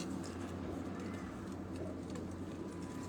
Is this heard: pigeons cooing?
yes